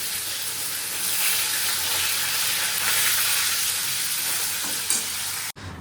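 Whole spices crackle and sizzle steadily in hot white oil for a paneer dish, a loud continuous frying hiss with faint stirring, cutting off abruptly at the end.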